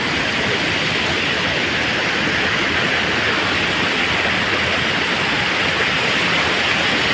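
The Keri river rushes steadily near Sakhpar, a loud, unbroken wash of flowing water with no voices.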